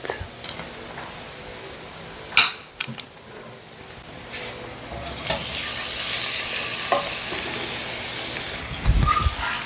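Marinated pork chops frying in a pan on an electric cooker, a quieter crackle at first with a few sharp clacks, swelling into a louder, steady sizzle in the second half with occasional knocks.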